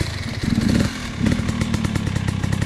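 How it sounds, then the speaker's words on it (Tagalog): A motorcycle engine revs nearby in short, rough, rising bursts, sputtering and loud, during a road trip through Ilocos. "nagagalit pala yung motor na yan"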